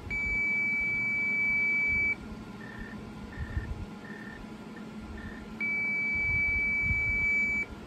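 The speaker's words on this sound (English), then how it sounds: "I've actually reconnected the buzzer in this thing" A DSC PC2550 alarm panel buzzer, reconnected and reporting to a receiver, sounds a steady loud tone for about two seconds, then a few short separate beeps, then another sustained tone near the end.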